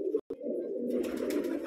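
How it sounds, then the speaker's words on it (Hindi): A large pigeon gives a low, throaty, continuous coo, close and steady, after a brief opening catch. "फ्रेंड बहुत बड़े साइज़ का कबूतर है ये"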